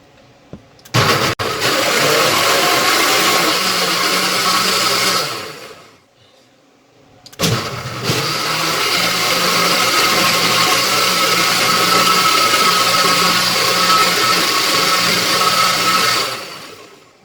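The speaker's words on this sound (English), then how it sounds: "We're going to puree this. I think that's the best method here. So let's go ahead and puree." A blender purees ingredients for a homemade cold and flu remedy, a loud steady motor whir close by that runs about five seconds, stops briefly, then starts again and runs on for several more seconds.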